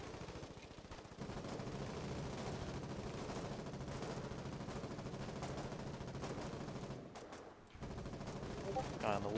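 Rapid automatic gunfire from the war game Foxhole, dense sustained bursts of shots crackling under a steady din, with voices talking over the battle.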